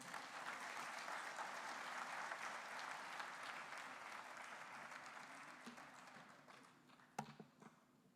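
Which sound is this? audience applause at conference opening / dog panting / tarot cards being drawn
audience applause at conference opening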